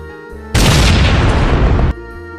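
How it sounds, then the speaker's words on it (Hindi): Bomb blowing up a rock in GTA 5, one loud, sustained roaring blast that lasts more than a second, then cuts off sharply back to a low hum. "फिर वो अपने साथ एक गन और बॉम्ब ले आता है और उस पत्थर को बॉम्ब से उड़ा"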